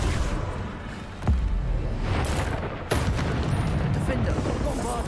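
Bombarda spell blasts in Hogwarts Legacy gameplay, a dense run of booming impacts with one sharp crack near the start and another burst partway through, loud and constant, with a voice talking over the top.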